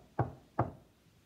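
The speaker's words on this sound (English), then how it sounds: "The pig knocked on the door and grunted." Two firm knocks on a wooden door, spaced about half a second apart, close and clear with no talking, in a children's storybook reading of the three little wolves and the pig.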